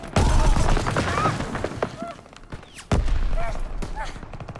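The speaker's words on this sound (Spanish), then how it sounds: "Se oyen disparos. Muy peligroso." Scattered gunshots crack amid a chaotic video game battle scene in Call of Duty: WWII, with people speaking and shouting over the bursts of fire.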